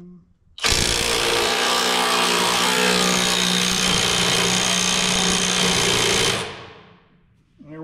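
A Milwaukee impact wrench breaks loose the axle nut on a 1967 Kaiser Jeep J2000, a loud, steady, close-up mechanical burst that runs for about six seconds and then cuts off abruptly.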